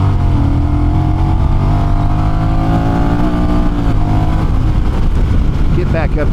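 Honda Rebel 1100 DCT SE automatic motorcycle in sport mode accelerating back up to highway speed, a steady loud engine drone with rising pitch and constant wind rush throughout.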